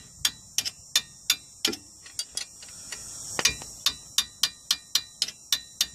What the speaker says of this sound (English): I'll tighten up a little more with a hammer.